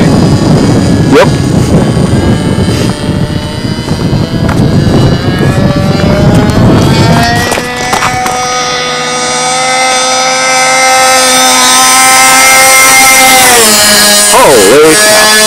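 A remote-control P-51 Mustang model plane flies over a runway. Gusty, blustery noise gives way to a sustained engine whine that grows loud and close, then swoops in pitch as it passes near the end.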